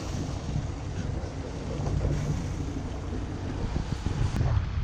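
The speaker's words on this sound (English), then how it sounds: "Finally, after 20 hours of motoring, we are sailing, barely, on the beam reach." Hallberg-Rassy 54 sailboat sailing on a beam reach in light wind at around 6 knots offshore, a steady rush of wind over the microphone with hissing water along the hull, continuous and close.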